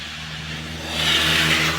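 A car engine idling with a steady low hum, then revving up briefly and holding at a higher, louder pitch near the end; no voices.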